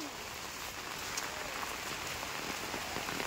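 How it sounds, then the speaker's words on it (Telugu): Heavy rain pouring down in a deep forest near a small waterfall, a dense, steady roar of drops on leaves and ground filling the whole short stretch with no speech. "ఇప్పుడు చాలా బీభత్సంగా అయితే పడుతుంది"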